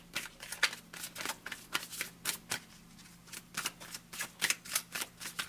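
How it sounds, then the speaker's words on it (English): Tarot cards are shuffled by hand in a quiet room, with repeated crisp riffles and soft slaps in an uneven rhythm, close and fairly quiet, with no talking. "so let's shuffle and see what's going on"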